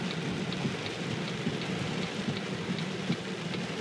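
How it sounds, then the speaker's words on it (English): Heavy rainstorm heard from inside a car while driving, a dense steady patter of rain drumming on the roof and glass with low rumbling underneath, continuous and fairly close. "it started this massively raining storm"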